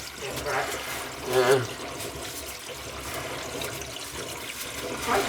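Water leaking from a kitchen sink drain gives off a soft, uneven trickle and splash close by. It swells briefly now and then, while someone speaks a single short word over it.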